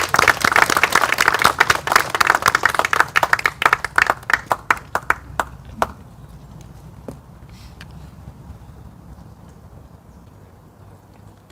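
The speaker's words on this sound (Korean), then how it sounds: "박수로 맞이해 주십시오." Audience applause at a memorial ceremony for fallen soldiers of a special forces unit at Seoul National Cemetery: loud, dense clapping from a crowd that thins into scattered claps and fades out after about six seconds, leaving quiet room tone.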